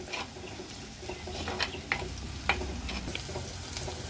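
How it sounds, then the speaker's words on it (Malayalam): Onions and green chillies sauté in a pan for a fish curry. A faint, steady sizzle runs throughout, broken by soft scattered clicks and scrapes of stirring. "എരിവിനൊരു രണ്ട് മൂന്ന് പച്ചമുളകും കൂടി ഇട്ടിട്ടുണ്ട് ഇതും കൂടെ നന്നായിട്ടൊന്ന് വാട്ടിയെടുക്കണം"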